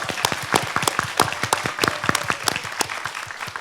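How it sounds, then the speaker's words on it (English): Audience applause at a university talk on health and food, for the two event organizers: steady, dense clapping at moderate distance, without speech. "So let's give both of them a big applause."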